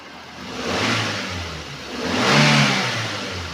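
A 2015 Daihatsu Granmax 1.3 pickup engine revved twice from idle, each rev swelling and falling back, close up and with no talking.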